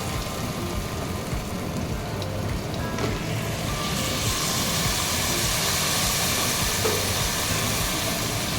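Chicken pieces hit a hot pan for a yakhni, giving a steady, dense sizzle with rain-like crackle that carries on unbroken from start to finish, loud and close.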